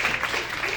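Brief, fairly quiet clapping from an audience at a talk, a short patter of many hands without voices.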